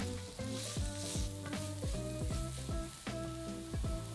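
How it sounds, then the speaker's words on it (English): Diced onion and minced garlic frying in a pan while being stirred often, a bright crackling sizzle broken by a regular series of spoon scrapes and knocks against the pan. "then add in 2 cloves of minced garlic and cook for another minute,"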